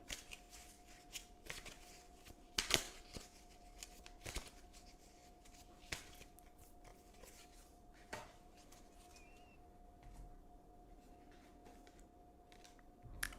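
A deck of tarot cards is shuffled by hand at close range, riffling and flicking in repeated bursts with soft clicks of cards tapping together and no talk.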